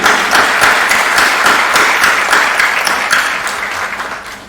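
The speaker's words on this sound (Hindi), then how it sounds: "जोरदार तालियां व्हाट्सएप बॉट के लिए।" Loud, dense audience applause closing an investor awareness seminar, many people clapping together with crisp individual claps audible, fading gradually toward the end.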